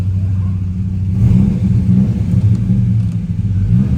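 A 2004 Dodge Ram 1500 SRT-10 engine idles with a low rumble, then revs up briefly and holds a louder, throaty drone before easing slightly, heard close with no talking.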